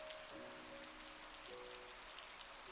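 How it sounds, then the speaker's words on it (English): Soft, steady rain patters against window glass in a dense, even hiss, fairly quiet and continuous with no voices. "it was the soft patter of rain against the glass that filled the silence"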